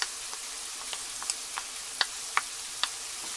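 Garlic frying with cabbage in a pan for cabbage and noodles (haluski): a steady bright sizzle with scattered pops and crackles, heard up close with no talking.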